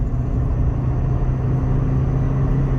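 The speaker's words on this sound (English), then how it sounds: "Right, third gear, wide open throttle." A car engine held at wide open throttle in third gear, a steady, loud, close low rumble that stays even and unbroken throughout with no voices.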